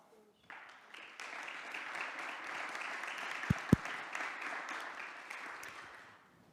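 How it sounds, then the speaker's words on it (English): A room full of people at a human rights forum claps steadily, a dense patter of applause that rises after a moment and holds, with a couple of sharp thumps partway through. "Give him a warm applause."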